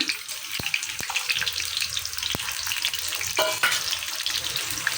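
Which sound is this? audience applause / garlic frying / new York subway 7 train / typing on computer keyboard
garlic frying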